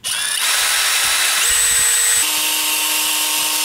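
A DeWALT DCD701 12V brushless lithium-ion drill spins freely at close range, a steady, fairly quiet whine that steps up in pitch partway through and then drops to a slightly lower speed, with no voices.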